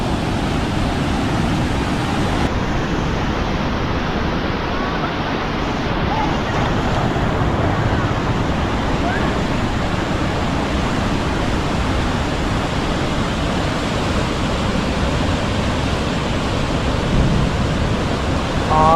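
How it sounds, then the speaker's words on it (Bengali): Water rushes through a few open barrage lock gates at Belpahari, making a loud, continuous broadband roar that stays steady throughout, with no talking. "যেই লক গেটগুলো দিয়ে প্রচুর জল প্রবাহিত হচ্ছে"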